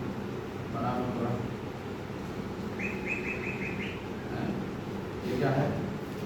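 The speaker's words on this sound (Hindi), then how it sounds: "चिड़िया वाली, चिड़िया की साउंड बजा रहे हैं" Recorded birdsong played aloud in a classroom, with a few short chirps and a brief trilled call over steady room noise, with a voice speaking over it.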